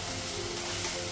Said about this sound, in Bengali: মশলাগুলো আর একটু ভেজে নেব।